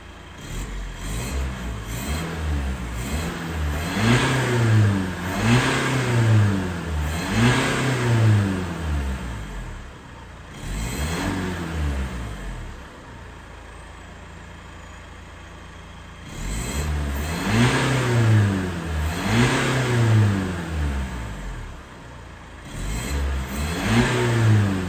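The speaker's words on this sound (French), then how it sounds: "Je viens de faire tourner un peu le moteur" A car engine runs in a workshop after repairs to an additional coolant pump, revving repeatedly in steady rising and falling swells, dropping to a low idle between bursts, loud and close.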